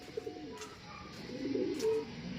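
Soft, low pigeon cooing, a few murmuring coos in a quiet outdoor setting, the last ones slightly louder.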